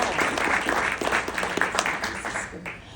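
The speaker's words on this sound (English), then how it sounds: "I want the applause before I talk instead of afterwards" An audience at a professional association event bursts into close, dense applause that continues steadily, with some voices mixed into the clapping.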